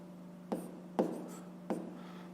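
A pencil writes fractions on paper in three short, close scratching strokes separated by brief pauses, fairly quiet.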